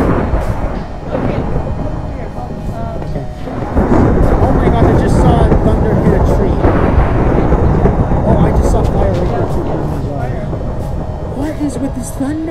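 Heavy rolling thunder rumbles through steady rain in Minecraft Pocket Edition, a loud, sustained roar that swells and stays dense for several seconds.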